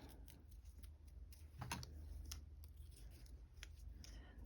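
Scissors trimming the end of a knot on a small paper craft, a few faint crisp snips over a quiet low background hum, close and without talking.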